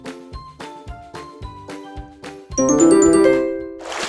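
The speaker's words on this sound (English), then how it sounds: "hit the bell button" A bright, melodic ding-dong notification chime plays as a run of regularly spaced tonal strikes, then swells into a louder sparkling jingle with rising tinkling notes before fading.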